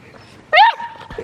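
Labrador puppies on a trampoline give a short, loud whimpering yelp that rises and falls, followed by a fainter whine, with faint background noise and no clear talk.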